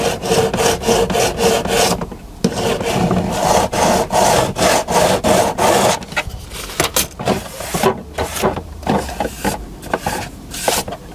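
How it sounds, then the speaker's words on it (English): A sandpaper block rubs along the edges of a model colliery building in rapid back-and-forth strokes, a loud, close, rhythmic scratching that pauses briefly and then resumes in shorter, irregular passes. "And I use this block just to rub edges."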